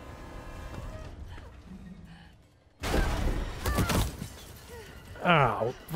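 Glass shatters in the Resident Evil 3 video game: a sudden loud crash of breaking glass bursts in after a quieter stretch, with someone talking over the game sounds before and after it.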